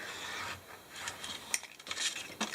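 An edge trimmed off folded paper, a short close series of soft rasping cuts and rubbing strokes, faint and without talk.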